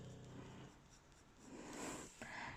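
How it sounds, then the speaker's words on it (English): Pencil drawing light, controlled parallel strokes on paper, producing a soft continuous scratching that swells and fades across several passes, close and quiet with no talking. "I'm just going to draw lots of nice controlled, very light lines in that clockwise direction using my pencil."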